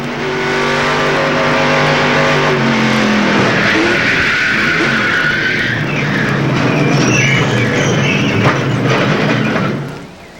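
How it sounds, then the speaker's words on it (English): Racing trucks at a 1996 truck race crashing in a multi-truck wreck: loud engine roar and revving with harsh scraping, skidding and crunching noise, sustained and close, ending abruptly, with no talking. "Wrecking sure is noisy."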